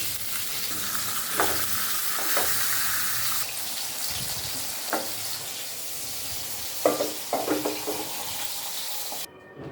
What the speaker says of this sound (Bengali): এর জন্য মাছগুলো ভেজে নিচ্ছি